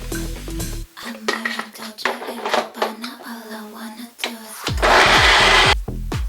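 A kitchen blender whirs loudly for about a second, blending pumpkin bread ingredients with a dash of almond milk, after a stretch of mechanical clatter and a person talking.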